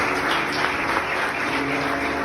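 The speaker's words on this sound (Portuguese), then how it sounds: "Aplauda Jesus, queridos." A church congregation applauds at an inauguration service, a dense, steady wash of clapping that stays even and fairly loud through the short stretch.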